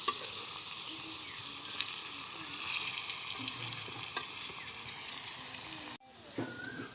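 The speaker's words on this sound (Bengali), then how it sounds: "তাহলে কচুটা আমি এখন উল্টে দেব" Pieces of pani kochu taro sizzle steadily in a pan of hot oil, with a few light clinks as they are turned. The frying cuts off abruptly near the end, then resumes more quietly.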